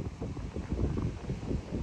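Wet, gusty wind at a seashore campsite on Padre Island buffets the microphone in a steady, loud low roar.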